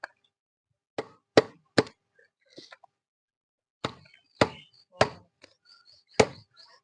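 A dao blade chops through a slippery two-kilogram catla fish: about nine sharp, close thuds in an irregular rhythm, some in quick pairs, with faint handling clatter between strikes in a quiet room.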